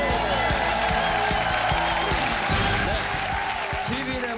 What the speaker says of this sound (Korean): 오늘 이 우렁찬 박수 들어보십시오